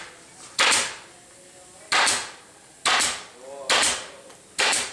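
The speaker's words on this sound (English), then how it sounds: "you're finishing it off with a couple of tacks" Tacks are hammered into the carpet door pocket of a 1974–1989 Porsche 911, five sharp, evenly spaced blows about a second apart, each with a short ringing decay, close by and with no talking.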